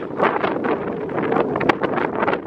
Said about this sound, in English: You can feel the wind, you can hear the wind.